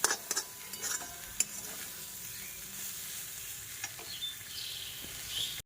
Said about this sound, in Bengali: একটু ঝরঝরা করে ভাজা করছি